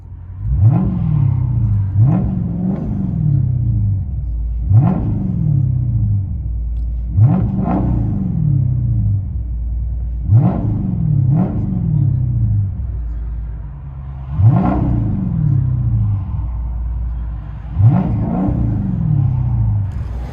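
Straight-piped dual exhaust of a 2012 Chrysler 300 SRT8 with a 6.4L HEMI V8, heard from inside the car: a deep rumble with repeated rising revs, about seven surges in a steady rhythm.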